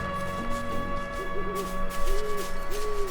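A bird creature in Xenoblade Chronicles 2 gives several rising and falling hooting cries over steady game music and ambience, repeated a few times at moderate distance.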